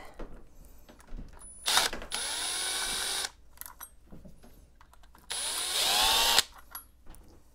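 A power tool whirs in two sustained bursts with a rising, ratcheting tone as it backs out the remaining screws of a plate on an Elite Direto XR trainer, with quieter clicks and handling between.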